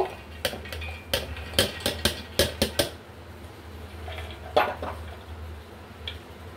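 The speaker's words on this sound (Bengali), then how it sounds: "এবার মিক্সির মধ্যে আমি ডালটা নিয়ে নেব।" Washed dal going into the jar of a mixer grinder: a quick run of close, bright clinks and taps against the jar, then a couple of softer knocks after a short pause.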